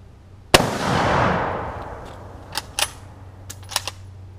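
An 8mm bolt-action Mauser rifle fires one sharp, loud shot outdoors, and a long rumbling echo rolls away after it. Fainter metallic clicks and clacks follow as the bolt is worked.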